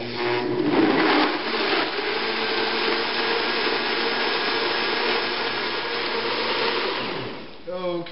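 A blender whirs steadily while making a wildberry shake, its motor grinding loudly and evenly for about seven seconds before winding down near the end.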